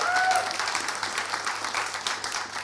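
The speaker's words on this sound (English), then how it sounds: "If you could guys please give a round of applause to the most incredible youth climate activists here." An audience at a youth climate activism panel during COP26 applauds, a dense, steady wash of clapping from a crowd that holds loud and even throughout.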